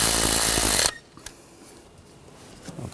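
A power tool tightens a screw while a downstream O2 sensor is replaced on a 2013-2019 Ford Escape. A loud, close whirring burst runs for about a second and cuts off abruptly, followed by faint clicks and handling noises.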